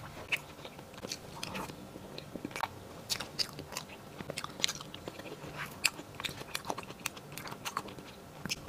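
Someone eating a bursting grape cake from Heytea, with close, quiet bites and soft wet chewing in an irregular rhythm, no talking.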